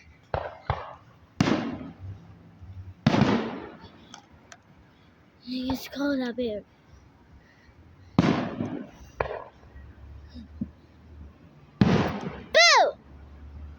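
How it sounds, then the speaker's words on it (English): Fireworks burst outdoors at night: a handful of sharp bangs and crackles arrive at irregular intervals, with a whistling rocket near the end, while people chat and call out between them. "Fireworks!"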